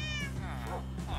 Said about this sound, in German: Das ist noch eine schwarze Katze.